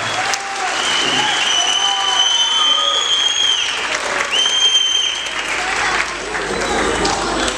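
Crowd applause during a Republic Day speech in Turkey, loud sustained clapping from a large audience with a few whistles or shouts rising above it, continuing for several seconds.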